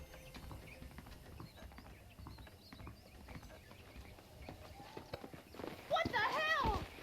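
Horse hooves clip-clop steadily in the Western video game Red Dead Redemption. The rhythmic footfalls sit under a low ambient bed and grow fuller near the end, where a brief whinny-like tonal sound rises.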